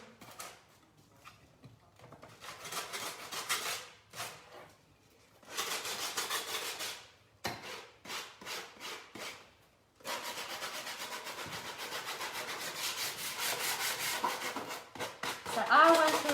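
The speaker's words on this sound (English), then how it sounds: "And I want to create a sanded effect at the top." Wood is hand-sanded with 100-grit sandpaper to create a sanded effect on a painted piece. Raspy rubbing strokes come in bursts, some short and rhythmic and some long and continuous, close but fairly quiet.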